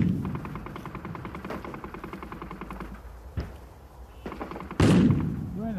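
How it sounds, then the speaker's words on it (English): Gunfire in a video game set in a no man's land war battle, with rapid machine gun bursts followed by scattered shots and a sudden loud blast, mixed with distant voices. "Careful, that machine gun fight"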